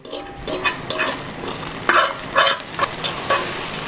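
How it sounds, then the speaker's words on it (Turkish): Eggs fry in olive oil in a pan while being stirred, a close, lively sizzle broken by repeated scraping strokes of a utensil in an uneven rhythm, with no talking. "Zeytinyağını çok ısıtmadan hemen yumurtaları ekleyeceğiz."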